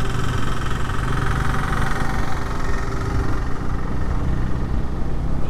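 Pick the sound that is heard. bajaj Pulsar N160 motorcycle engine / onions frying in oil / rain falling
bajaj Pulsar N160 motorcycle engine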